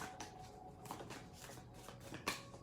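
Tarot cards shuffled by hand in a series of soft riffling and slapping bursts, fairly close and quiet, with one sharper snap near the end and no talking.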